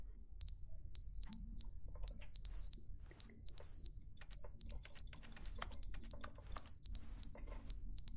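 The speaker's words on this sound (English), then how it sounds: "Sounds like a fire alarm." A fire alarm in The Stanley Parable video game, with loud repeated high electronic beeps in regular bursts over a low rumble, continuing throughout with no talking.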